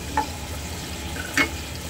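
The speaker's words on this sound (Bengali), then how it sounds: "এবার আমি একটু ভালো করে একটু জল দিয়ে ভালো করে কষিয়ে নেব" Spice paste with turmeric and water being stirred in a pan, a steady low sizzle of frying beneath a couple of brief scraping stirs.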